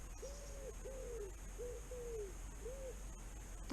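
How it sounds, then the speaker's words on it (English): Wood pigeon in a garden cooing in a steady series of five soft, hollow calls at moderate distance, each a rounded two-part coo, over faint background hiss. "That cooing ooh, ooh noise is a wood pigeon."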